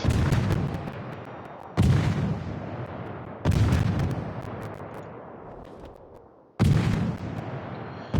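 Heavy naval gun salvos boom out in World of Warships, three or four loud, deep blasts spaced a couple of seconds apart, each trailing off in a long rumbling decay.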